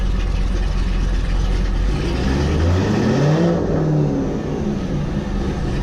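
A Corvette engine revs up loudly and close by, its pitch sweeping up and then easing back down in one long, smooth rise and fall with a steady rumble beneath.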